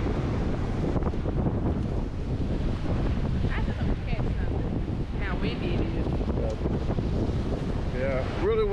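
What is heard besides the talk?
strong wind at the pier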